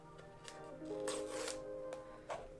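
Plastic pull tabs on an iPhone 14 Pro Max box tear off in a few short crackling rips, close and quiet, with light rustling in between.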